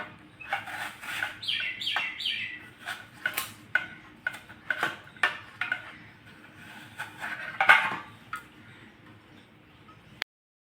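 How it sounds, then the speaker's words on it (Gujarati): A knife makes quick, crisp cuts through a peeled potato, slicing it into thin chips, a run of sharp clicks and taps against a board in a quiet room. "તો બટાકો આપણે સોલી નાખ્યો છે હવે આના આપણે ચીપ કરી નાખશું આમ એકદમ પાતળી"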